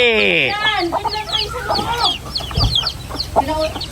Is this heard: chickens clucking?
yes